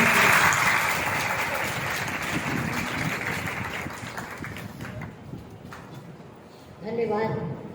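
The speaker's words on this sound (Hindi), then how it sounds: "जोरदार तालियां एक बार" Loud applause from a gathered congregation at a Guru Purnima festival event honouring sevadars, dense clapping sustained for several seconds, easing off and then swelling again near the end, with voices mixed in.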